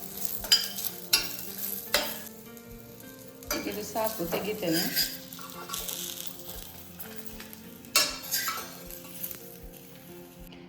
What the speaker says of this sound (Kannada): ಸ್ವಲ್ಪ ಫ್ರೈ ಆದರೆ ಸಾಕು ಬೆಳ್ಳುಳ್ಳಿ ಈರುಳ್ಳಿ